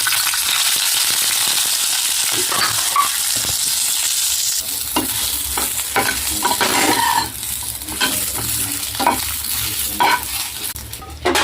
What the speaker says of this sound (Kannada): ಹಾಗಲಕಾಯಿ ಹಾಕ್ಕೊಂಡ್ಬಿಟ್ಟು ಎಣ್ಣೆ ಹಾಕೋಬೇಕು ಚೆಂದಾಗಿ ಎಣ್ಣೆ ಹಾಕ್ಕೊಂಡು ಹುರ್ಕೋಬೇಕು